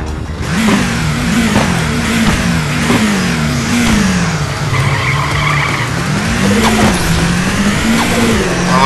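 A Subaru Impreza STI engine revs hard in a Nitro Nation drag race game, rising and falling loudly through gear changes with tire screeching, continuous and up front.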